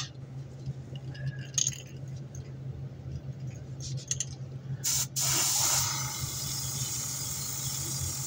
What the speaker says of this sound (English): Takes a little more pressure to push these flakes through the gun.